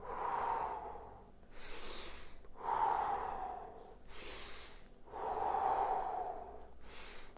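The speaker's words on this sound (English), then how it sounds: "Remember, exhale as you come down, inhale and you come up." Slow, deep exercise breathing during a home hand-and-wrist workout: four long, loud exhales and inhales in steady alternation, close and alone with no talk.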